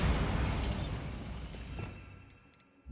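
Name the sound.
Bombarda explosion spell, Hogwarts Legacy video game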